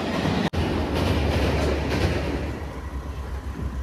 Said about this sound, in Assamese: ট্ৰেইনটো যিহেতু ওপৰেদি যাই আছে